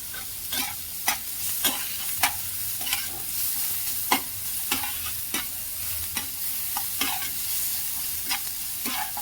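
Vegetables tossed and stir-fried in a hot pan with onion, carrot, capsicum and cabbage: a steady sizzle with repeated sharp scraping strokes of a spatula at an uneven rhythm, close and clear, no talking.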